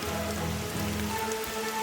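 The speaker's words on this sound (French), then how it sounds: "Il pleut." Rain falls on a beach in Sumatra, a soft, constant patter on surfaces with a faint low hum underneath and no talking.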